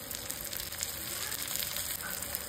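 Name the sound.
chopped tomatoes frying with spices in pan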